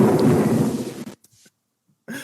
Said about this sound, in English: Castle Thunder all year.